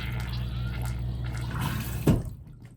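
Water running into a newly installed RV toilet plumbed with PEX pipe, a soft continuous wash and trickle capped by a brief louder gush near the end, close and fairly quiet.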